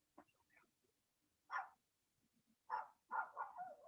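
A dog barks in short bursts at a distance, a few sharp woofs spaced apart with quieter yips between, faint and otherwise alone in a quiet room.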